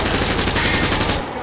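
Rapid automatic gunfire shoots through light cover in Call of Duty: Modern Warfare 2, a dense close burst of repeated shots that cuts off abruptly near the end.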